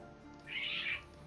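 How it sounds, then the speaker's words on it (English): A cat outside a window lets out a single faint, strained yowl, a brief high cry lasting under a second against quiet room noise. "This cat's fighting outside my window."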